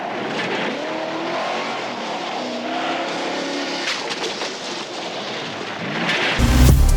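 A 2010 Chevy Traverse with 285,000 miles, driven as a sales vehicle, moves along with a steady engine hum that rises and shifts as it accelerates, ending in a sudden loud thump or rush of noise.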